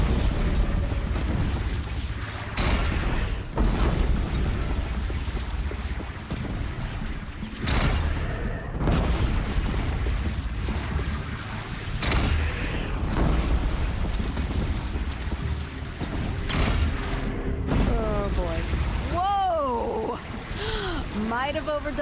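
A bridge is shot down and collapses in Horizon Zero Dawn, a long, dense roar of crashing and rumbling debris under game music and repeated dialogue, ending with a warbling tonal effect.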